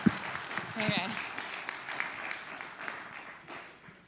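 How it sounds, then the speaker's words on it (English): Crowd applause, a broad wash of clapping that starts strong and slowly fades, with a voice briefly cutting through near the start. "Give yourselves a round of applause."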